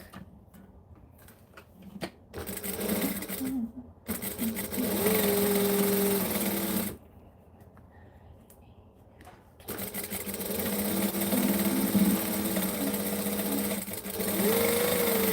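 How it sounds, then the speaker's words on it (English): A sewing machine joins two fabric pieces for a raggabrash, running in several sustained, fairly loud stretches with short pauses and faint background sounds between them. "This does not have to be neat, this sewing."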